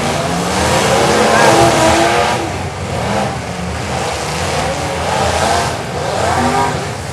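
Demolition derby cars rev their engines at a county fair derby, a loud, rough, sustained roar that surges and falls in waves, heard from a distance over crowd noise.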